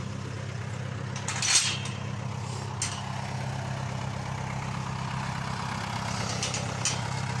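A John Deere 2140 tractor engine idles steadily at a low, even rumble, fairly near, with a few faint clicks and knocks on top and no talking.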